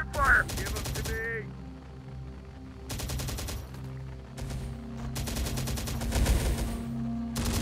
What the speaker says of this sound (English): We are taking fire.